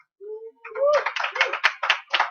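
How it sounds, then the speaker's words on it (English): Brief applause for Dutch player Harstem in a tournament player lobby, a short burst of several close claps following a voice. "only one guy got applause in the player lobby here"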